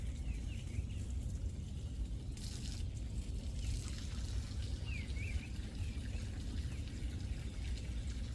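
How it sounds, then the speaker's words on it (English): Water trickles and splashes steadily as a garden fountain is filled outdoors, a soft continuous pour with faint birds chirping now and then in the background. "filling up that fountain. Make sure that I can enjoy the sounds of the water."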